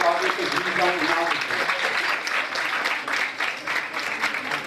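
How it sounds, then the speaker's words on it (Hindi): Audience applause at a seminar in Lahore, a dense sustained clatter of many hands clapping at moderate loudness, with voices mixed in. "इनके लिए बहुत सारी तालियां"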